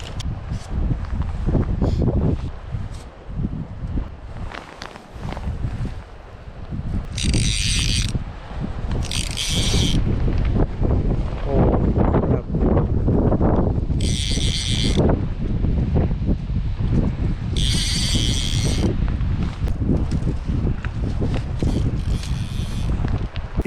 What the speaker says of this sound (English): it's so windy, you probably can't even hear me on my camera right now